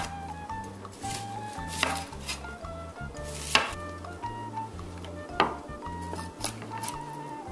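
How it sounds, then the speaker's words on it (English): A knife chops onion on a cutting board in quick, uneven taps, close and fairly soft, with a few sharper knocks and a low steady hum underneath and no talking. "And you're ready to just chop it up."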